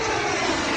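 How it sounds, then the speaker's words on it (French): An airplane passes overhead as a steady, broad roar that fills the moment at moderate loudness, with no speech. "On va laisser passer l'avion."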